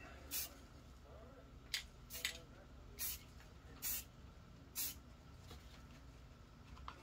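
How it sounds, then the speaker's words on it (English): Spray paint hisses from an aerosol can as camouflage paint goes onto a holster, about six short bursts spaced a second or so apart, close and fairly quiet. "So I'm just gonna give it a couple of sprays."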